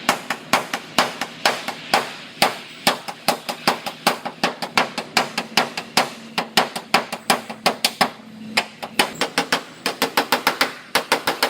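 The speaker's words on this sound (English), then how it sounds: "the edge of this hood is all bent in. So I'm going to straighten this out" A hammer straightening the bent edge of an old Toyota's car hood: loud, close metallic blows in a steady run of dozens of strikes, quickening toward the end, with no talk.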